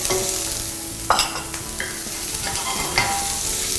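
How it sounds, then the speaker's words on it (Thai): Chopped onion sizzling in butter in a pan, a steady crackling fry with occasional scrapes of stirring; no voices. "เนยร้อนทุกกระทะปุ๊บแล้วก็จะใส่ หอมหัวใหญ่สับลงไปนะครับ"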